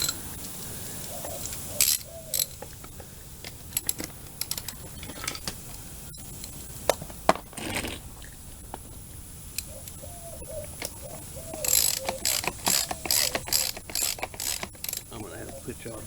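A ratchet turns a left-hand-thread 13 mm nut on the condenser fan of a 2004–2008 Dodge Ram 1500 4.7. Close, crisp clicking comes in irregular runs of quick strokes with short pauses between.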